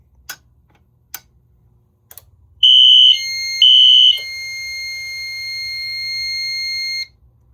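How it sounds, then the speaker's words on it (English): Wheelock fire alarm notification appliances briefly sound during a system test: a few sharp clicks, then two loud piercing horn blasts followed by a sustained electronic tone lasting about three seconds before cutting off. "when I quickly flip the switch up and then down again, that's what I was able to briefly test the alarms"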